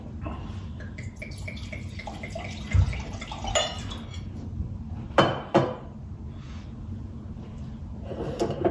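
A glass being swirled and rinsed with a splash of 2014 Caymus Cabernet Sauvignon before the wine is poured away, giving soft sloshing, a few clinks of glass and two sharper splashing bursts near the end, close and fairly quiet.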